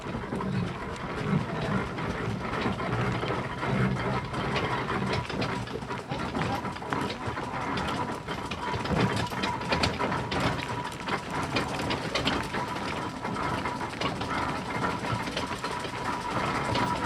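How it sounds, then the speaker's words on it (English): A steam traction engine runs steadily at a summer fete in Little Burstead near Billericay, with a continuous mechanical chugging and clatter heard close for the whole stretch, mixed with faint outdoor crowd murmur. "This is the only traction engine around here I'm aware of."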